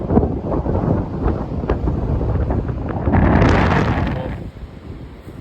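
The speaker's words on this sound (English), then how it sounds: "It is so windy out here." Strong wind on the Oregon coast above the ocean near Lincoln City, roaring loudly against the microphone in sustained gusts that swell midway and then ease off.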